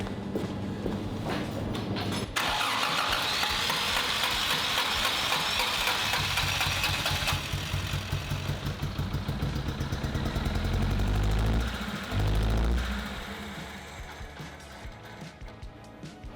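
An old project car's engine cranks, catches and runs roughly, sputtering unevenly before it falters near the end, with a fuel pump problem noted; a loud, close mechanical rumble with knocking irregularity throughout.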